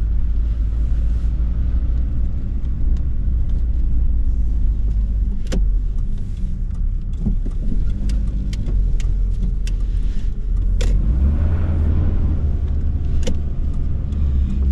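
An older two-wheel-drive Ford Ranger pickup with traction control drives through snow, its engine and road rumble heard from inside as a steady, loud drone with occasional sharp clicks and knocks.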